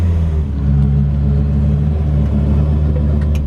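A 2000-horsepower Lamborghini engine, freshly rebuilt, running with a deep loud steady rumble heard from inside the car, a low droning idle-to-cruise tone that holds constant throughout.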